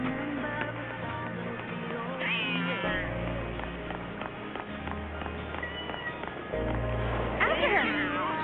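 A cat meows twice in Final Fantasy XIII-2, two short rising mews heard over continuous game music and background effects.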